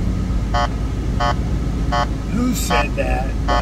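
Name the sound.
car horn beeping in traffic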